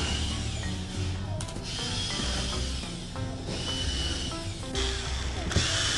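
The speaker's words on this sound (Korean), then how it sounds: "멀바는 굉장히 단단한 목재이기 때문에 꼭 이중 드릴 비트를 이용해서 먼저" A power drill with a double drill bit bores pilot holes in hard maple while a long solid-wood sink countertop is built, a steady whirring drone that shifts in pitch, with a few short changes as the bit bites.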